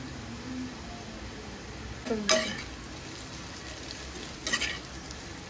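Red chilli powder, coriander powder, turmeric and garam masala with green chillies fry in oil in a pan, a soft steady sizzle with two brief scraping stirs partway through.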